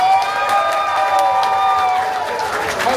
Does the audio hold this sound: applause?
yes